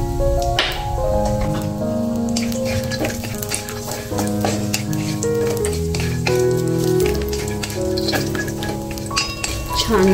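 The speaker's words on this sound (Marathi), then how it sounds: "बदाम भाजून घ्यायचे" Almonds and cashews roasting in a pan, with stirring scrapes and light clinks of nuts against metal over a faint sizzle, close by, while someone talks over it and soft music plays.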